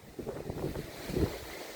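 Strong wind buffets the microphone in rough, gusting bursts, with a heavier blast near the end; no voices.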